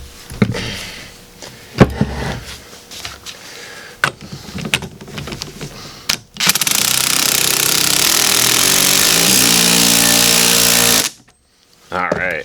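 A power tool tightening spring compressors on a car strut during an Isuzu Stylus camber plate installation, first scattered clanks and short bursts while a person talks, then one loud sustained rattling whir of about four seconds.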